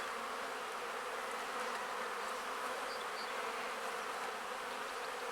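Dense, steady buzzing of many honeybees inside a hive in late March, a continuous close hum with no pauses and no voices.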